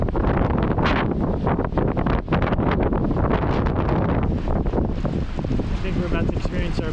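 Strong, gusting wind roars across a parking lot in a severe storm, loud and unbroken with heavy buffeting on the microphone, and faint talk may sit under it.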